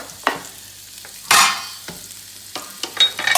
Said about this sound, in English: So onions sliced thin go into a couple tablespoons of olive oil.